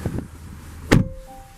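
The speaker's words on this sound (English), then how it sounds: "Close the door." A 2018 Volvo V90 Cross Country T5 AWD door slams shut with a single solid thud, heard close and alone, followed by a soft electronic tone.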